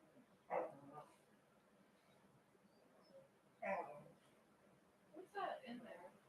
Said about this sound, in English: There's some dog in there in my room that's like playing.